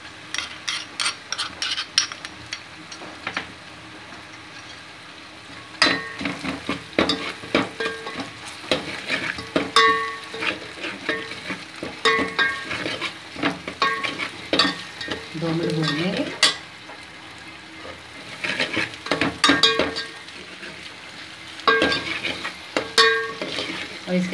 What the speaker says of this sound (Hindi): और अब हम तब तक भूनेंगे जब तक जो गोल्डन ब्राउन ना हो जाए।